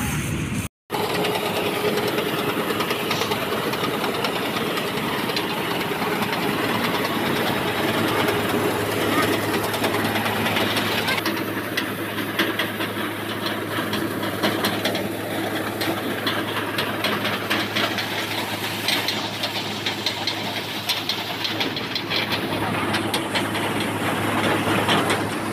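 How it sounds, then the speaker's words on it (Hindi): Tractor engine running steadily in a paddy field where a tractor and trolley are stuck in mud, a continuous loud mechanical drone under wideband clatter with voices talking over it. "ट्रैक्टर फंस चुका है और ट्राली पूरी धस चुकी है देखो, और दूसरा ट्रैक्टर मंगाया अभी, तो आ गया ट्रैक्टर"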